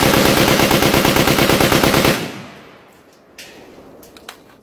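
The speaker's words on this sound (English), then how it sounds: "20 rounds without the suppressor." An unsuppressed gun fires about 20 rounds in a rapid, loud, evenly spaced burst lasting roughly two seconds, then stops abruptly. A quieter stretch follows with a few faint handling clicks.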